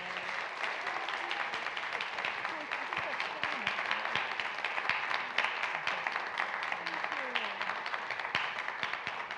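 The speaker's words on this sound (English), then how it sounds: "So big round of applause for Alicia and Flo." Audience applause at a live true-stories event, dense and steady for the full stretch with scattered claps and a few voices and cheers mixed in, fairly distant and even in loudness.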